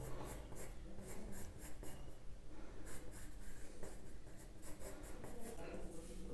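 Pencil sketching on paper while drawing a dog's ear, a close, steady run of quick scratchy strokes in short bursts, soft and continuous with no speech over it.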